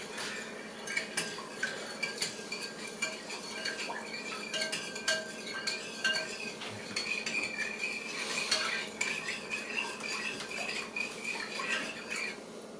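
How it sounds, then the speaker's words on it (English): A spoon stirring sugar into lemonade, clinking and scraping against the container in a steady run of small taps and rattles, close by and fairly quiet, with no one talking. "And then you mix it up."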